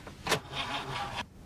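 A car engine cranks in a broad burst of grinding noise but fails to catch on a dead battery, the effort fading after about a second; faint voices sit low beneath it.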